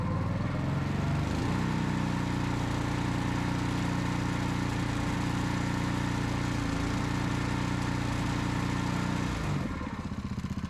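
A Permagreen Magnum engine runs steadily at high RPM, a loud, continuous mid-pitched drone with a slight dip midway before the revs drop near the end.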